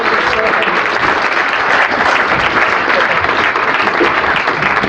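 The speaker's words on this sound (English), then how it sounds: "So as they go back down, one more round of applause." Steady, loud applause from a conference audience at a security convention's closing session, dense clapping filling the whole stretch without a break.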